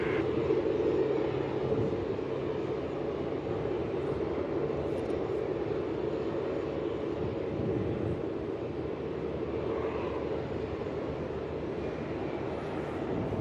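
Airliner engine noise at Melbourne Airport, with an Airbus A380 turning onto base for runway 34, a steady broad jet roar held at moderate distance throughout, no talk.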